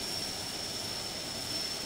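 A TBM aircraft engine in the Infinite Flight game, heard from inside the cockpit: a steady, muffled drone with a thin high whine running throughout, with no talk over it.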